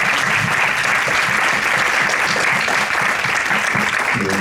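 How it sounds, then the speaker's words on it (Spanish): A roundtable audience at an impact-investment event in Latin America breaks into steady, dense applause, loud and continuous throughout with many hands clapping together. "así que por favor, con un aplauso"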